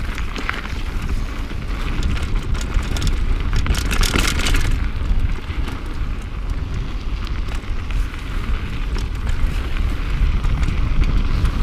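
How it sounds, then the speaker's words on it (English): Steady, heavy wind buffeting the microphone, a constant roaring rush with gusty fluctuations throughout, loud and close. "This section is really windy."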